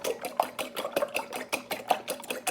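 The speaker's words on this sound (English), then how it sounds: "now I'm going to mix my eggs up" Eggs beaten with a fork or whisk in a bowl for a spinach burrito, heard as quick, rhythmic clinking strokes repeated steadily and close.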